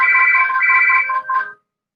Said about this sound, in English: So it should hopefully stop ringing soon.